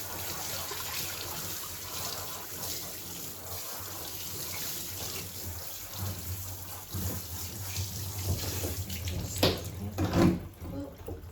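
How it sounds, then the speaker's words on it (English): Water runs steadily from a tap during a dog grooming bath, a constant hiss and splash with occasional louder gushes and spatters toward the end. "Keep the water running."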